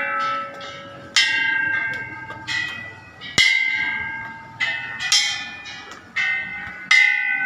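Bells at a Buddhist temple in Thailand ring in a series of bright metallic strikes, each one clanging and then fading into a shimmering decay, struck at irregular intervals and close by.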